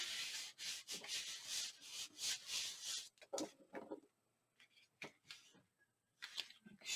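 Paper is burnished down by hand onto a folded album cover during papercraft. Close, soft rubbing strokes repeat rapidly for about three seconds, then come in scattered short bursts with quiet gaps.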